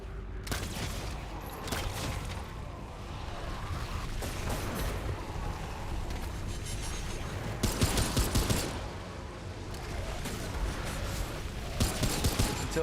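Gunfire in the video game Remnant 2, a dense, sustained fusillade of shots and bursts over a constant loud combat bed, with heavier volleys swelling near the middle and end.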